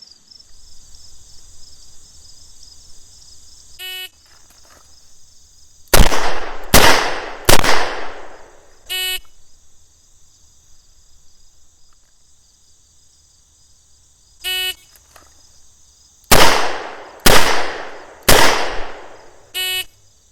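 A Smith & Wesson Model 29 revolver fires during a police handgun qualification at an outdoor range, with two volleys of three loud, sharp, booming shots in quick succession, each preceded by a brief beep, over insects chirping steadily.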